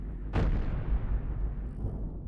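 One deck cannon shell fires in a spaceship video game: a single loud, close blast that trails off into a long rumbling decay.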